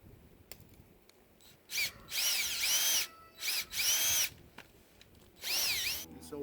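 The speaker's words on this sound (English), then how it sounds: "I'm going to go ahead and drill a hole so I can get these bolts in" Power drill boring a hole through a wooden fence gate for the bolts of a sheep and goat paddock, several loud whining bursts of a few seconds each with short pauses between them, close by.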